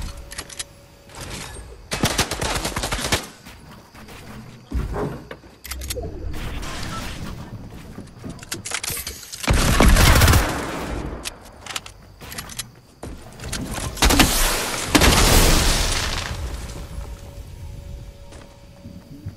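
Gunfire in the video game Fortnite comes in several loud rapid bursts separated by quieter gaps, with dense crackling volleys alongside other game noise and no speech.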